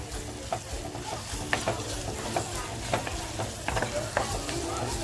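Onion and red chili frying in a clay pot, a continuous crackling sizzle with regular scraping stirs every second or so and a low hum beneath, no voices.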